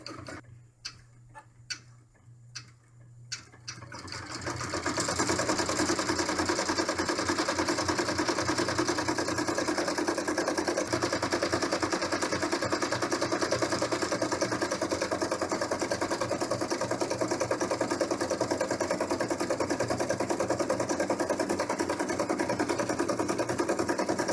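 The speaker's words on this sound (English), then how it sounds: "we're going to be stitching our next stitch, which is going to be securing all those items together." Embroidery machine stitching an in-the-hoop camper bag: a few clicks and short start-up taps, then a steady, loud, rapid mechanical whir and needle chatter that runs continuously for about twenty seconds, heard alone and close.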